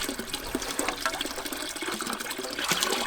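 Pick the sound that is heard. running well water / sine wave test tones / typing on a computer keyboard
running well water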